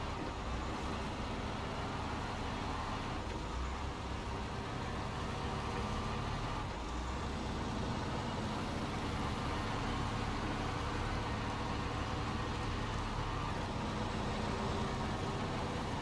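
A P512 truck drives along in a trucking video game, its engine a steady, dense drone with a constant road rumble, continuous throughout with nobody talking.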